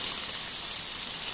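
Onion, star anise and cinnamon fry in hot oil, giving a steady, close crackling sizzle that fills a brief moment.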